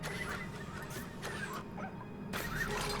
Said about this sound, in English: He's barking like a little dog.